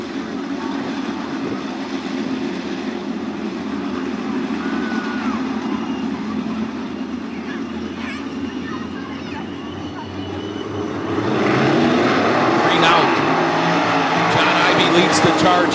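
Fremont Fence and Guardrail 305 sprint cars, 41 entered, run the first heat race at Attica Raceway Park, a steady loud engine roar that swells louder near the end as the field passes, with an announcer talking over it.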